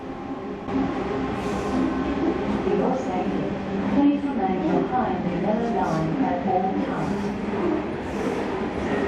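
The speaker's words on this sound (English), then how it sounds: "Another fully loaded One Rail Australia coal train" A fully loaded One Rail Australia coal train rumbles past in the Hunter Valley, New South Wales, a steady rolling roar of wagons with faint wheel screech, while someone talks over it.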